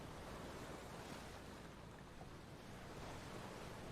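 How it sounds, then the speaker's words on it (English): Gentle waves lap in a fishing horror video game, giving a soft, steady, faint wash of water with no distinct breaks and no voices. "the lapping of the waves is pretty relaxing"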